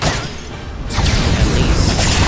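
A fire attack spell from the game Octopath Traveler II goes off as a loud, roaring burst of flame that swells and holds, with a rumbling low end and a brief crackling whoosh partway through.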